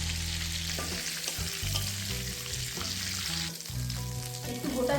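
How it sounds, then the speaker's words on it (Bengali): Whole cumin seeds hit a pan of hot oil, raising a steady, fairly close sizzle with some stirring, for a wedding-style pointed gourd and shrimp curry. The frying crackle runs continuously throughout, with faint tonal sounds in the background. "এখন আমি এই তেলের মধ্যে আরেকটু তেল দিয়ে দেব। একটু গোটা জিরে,"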